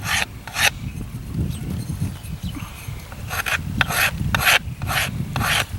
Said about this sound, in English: all I do is I take my file, and I just come along here, and I just start taking a little bit off the ends